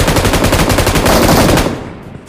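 Rapid automatic gunfire from a video game firefight, a loud sustained burst of closely spaced shots for about a second and a half before it cuts off and fades.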